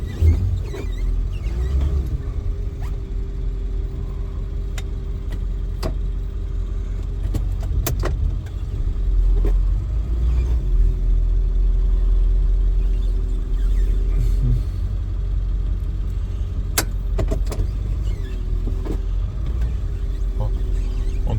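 A Ford F-350 pickup truck, a 2002 model, idles steadily while being parked on a street corner, its low engine rumble loud and continuous throughout, with occasional clicks and jingles over the top.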